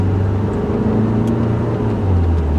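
Lancia Delta 2012 1.6 Multijet diesel with a Selectronic gearbox, its engine droning low and steady from inside the car just after a downshift, with revs rising slightly toward the end and no voices.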